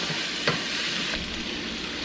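Italian sausage with sliced peppers and onions sizzles steadily in a pan, a continuous broadband frying hiss with a couple of faint scrape or stir clicks, close and unbroken.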